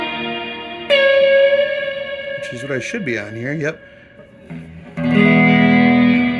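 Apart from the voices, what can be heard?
guitar played through a plate reverb effects pedal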